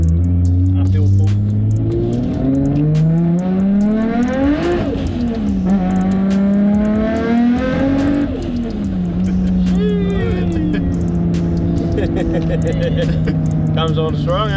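Nissan R32 GTR engine revving hard under acceleration, loud and close from inside the car, pitch climbing through several gears with brief dips at each shift, a sustained roar throughout.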